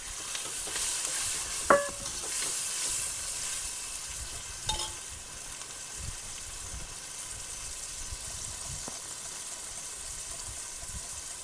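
Tomatoes sizzle and fry in a pan on an outdoor fire while being stirred, a steady soft frying hiss with a few brief clinks of the spoon near the start, no talking.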